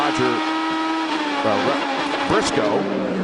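IndyCar race cars of the 2008 season battle on track, Team Penske's Ryan Briscoe against Target Chip Ganassi's Scott Dixon. High engine whines swoop up and down in pitch as the cars pass, under steady commentator talk.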